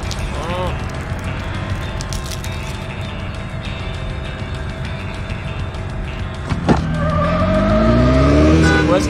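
Race car engine in the Need for Speed video game, droning steadily with a rising rev toward the end, accompanied by tire and skid noise and loud game sounds; a person talks over it.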